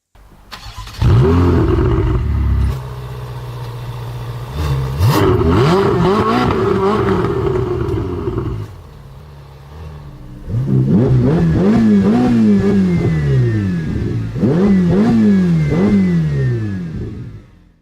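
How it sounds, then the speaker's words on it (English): A sports car engine sound effect revs up and down in loud repeated surges, with a short quieter idle pause in between. "And here's what the engine sounds like."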